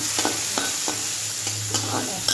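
Potatoes sizzling in hot oil in a pan while being stirred, with a continuous frying hiss broken by quick, regular scrapes of the spoon, close and clear, with no voices.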